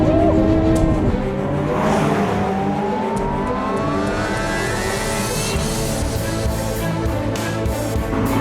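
A 2014 Corvette Stingray C7 convertible engine revs and accelerates, pitch climbing steadily in a long sweep with a brief tire chirp, loud and close, no talking.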